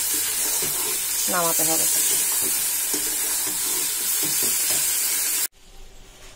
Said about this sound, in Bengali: এবার এখন খালি জাস্ট কষে কষে কষে কষে